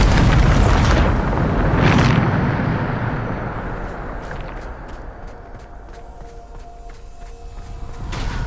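The Bombarda blasting spell explodes in the Hogwarts Legacy video game with two heavy, close booms, each followed by a long, rumbling decay that fades into scattered debris clatter.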